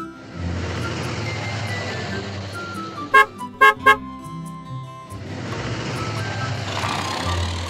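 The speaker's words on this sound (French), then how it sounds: "Le camion peut partir." Cartoon road-repair truck pulling away: a steady engine drone with a few sharp beeps and toots in the middle, then the engine hum swells again toward the end.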